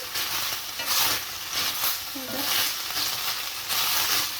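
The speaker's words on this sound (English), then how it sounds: "So we'll just simmer it until it begins to fry. It started frying." Ground beef sizzles and crackles steadily in a hot pan, a loud continuous hiss with gentle swells as it is stirred.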